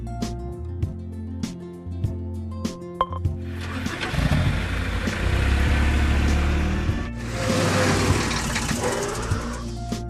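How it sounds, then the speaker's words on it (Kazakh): A truck engine starts up and runs in a heavy, continuous low rumble for several seconds, with a short break and restart midway, beneath soft background music. "Жүк көлігі."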